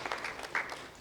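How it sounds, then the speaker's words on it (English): Brief, faint audience applause at a Kenyan public forum on the impact of Covid-19 on domestic and social relations; a soft wash of scattered clapping lasting about a second. "Applause for them, please."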